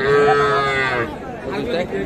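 A small young bull calf moos loudly and close at a busy livestock market, one drawn-out call followed by a shorter second one.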